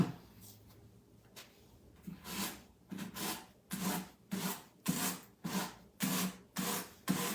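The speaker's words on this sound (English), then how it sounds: "And it's always best if your piece is dry when you do this. It'll sand a little better." A painted wooden cabinet is sanded by hand in steady back-and-forth strokes, about a dozen rhythmic scratchy rubs that grow louder and more regular, close and unaccompanied by talk.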